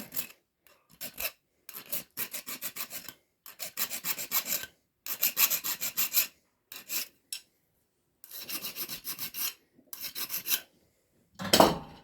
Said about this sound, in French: je mets un petit coup de lime pour enlever ce qui dépasse